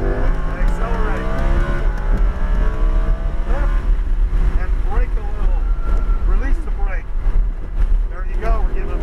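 A Lamborghini Huracan's engine drones and climbs as it accelerates on a racetrack, heard from the cabin beneath steady wind rush while an instructor talks throughout.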